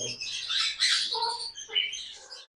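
Fischer's lovebirds, including lutino red-eyed birds, squawk and chirp in a busy bird shop, a dense run of shrill overlapping calls close by for a couple of seconds.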